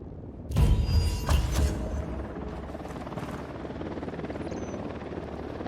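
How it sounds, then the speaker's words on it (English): A helicopter flies in Ghost Recon Wildlands, arriving with a loud rotor thump, then settling into a steady drone that stays close. "Only that chopper."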